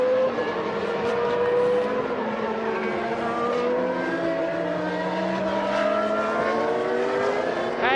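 Formula One cars at the 1993 European Grand Prix at Donington Park race past continuously, with engine whine rising and falling loud and close and no talk.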